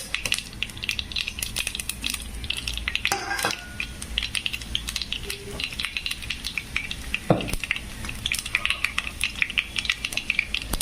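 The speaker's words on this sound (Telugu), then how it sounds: "బాగా వేగనివ్వాలండి. పచ్చిగా ఉండకూడదు శనగపప్పు." Chana dal, mustard seeds and cumin frying in oil in a pan, a continuous crackling sizzle with popping seeds and frequent metal spoon scrapes and clinks from stirring, close and steady throughout, no voices.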